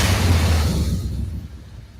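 A limousine engine runs with a loud, rough low rumble that eases down over two seconds toward a quieter, steadier idle.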